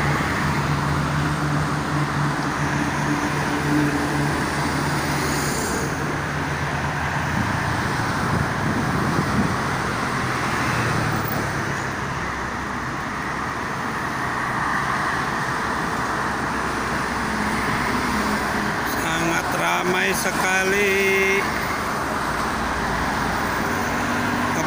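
Steady roar of night traffic on the Jakarta–Cikampek toll road, mostly private cars with some night buses passing continuously, a dense broadband wash of engines and tires, fairly loud and unbroken, with no voices.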